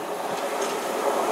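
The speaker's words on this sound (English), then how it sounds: "It's a class 220 Voyager going from Plymouth to Edinburgh." A Class 220 Voyager cross-country diesel train passes at Dawlish, giving a steady, loud rumble and rushing wheel noise for the whole short moment, with no voices.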